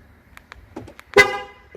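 A few soft clicks, then a single short car horn chirp sounds as the car locks, ringing out sharply and fading quickly.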